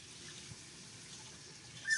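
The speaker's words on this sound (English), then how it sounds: "That's the water you hear running." A kitchen tap runs while a transfer is rinsed off during a Halloween house craft, a faint, steady trickle of water with no talking.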